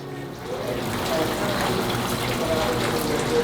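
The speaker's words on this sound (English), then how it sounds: "This is a real spring, and the water comes directly from a Florida aquifer." Spring water fed from a Florida aquifer flows steadily at the Fountain of Youth in St. Augustine, a continuous close trickle and splash that runs through the whole moment with low background murmur.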